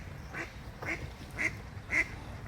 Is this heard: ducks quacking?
yes